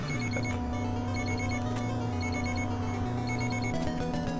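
An electronic beeping alarm repeats over a busy chiptune melody, urgent and steady, from a video game.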